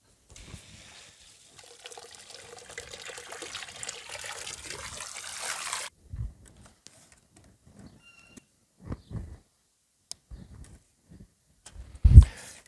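Water gushes steadily from the hose of a homemade pool pump for about six seconds, then gives way to a few short splashes and trickles.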